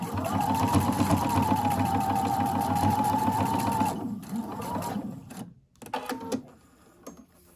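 A sewing machine stitching underwire channeling onto a homemade Devonshire bra runs in a steady, close mechanical whir for about four seconds, then stops and gives way to quieter fabric handling and a few soft knocks.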